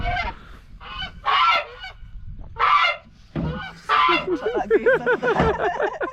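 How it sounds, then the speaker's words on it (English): Domestic goose on a farm honking loudly in repeated harsh bursts, with quieter rasping calls and some background voices between them. "how not to catch and handle a goose"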